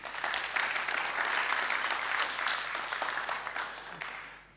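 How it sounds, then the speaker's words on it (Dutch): An audience applauds during a Dutch late-night talk show on cybersecurity for small businesses, a dense burst of clapping that swells and holds before gradually tapering off, with no speech over it. "Ja, applaus voor Rosalie."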